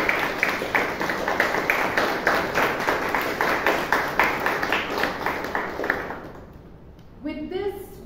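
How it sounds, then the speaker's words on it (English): Rhythmic, rather sparse clapping from a small Toastmasters meeting audience, individual claps audible in a steady pattern for about six seconds before stopping, then a voice starts speaking. "So another round of applause to the Table Topics Master and the speaker"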